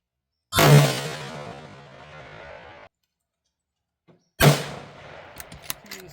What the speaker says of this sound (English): So I'm going to shoot 3 rounds of this 69 grain